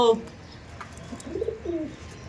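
Madrasi tournament-quality pigeons cooing in a loft, a few soft low coos and light chirps near at hand, with faint background noise and a voice nearby.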